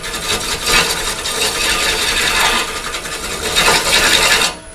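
Gouge on a wood lathe making a bevel-rubbing shear cut, a loud close rasping hiss that swells and eases in long strokes, then stops.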